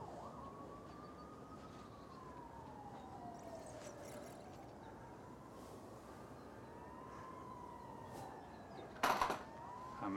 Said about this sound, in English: you can be in the middle of nature and still hear the police sirens going on here